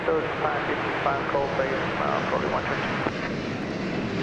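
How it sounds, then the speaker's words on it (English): Boeing 787-9 Dreamliner on the daily flight from Auckland arriving at DFW Airport, a broad sustained jet engine roar at a distance, heard under a voice talking and a few words of radio chatter. "This is the daily flight from Auckland, New Zealand. It's a 787-9 Dreamliner."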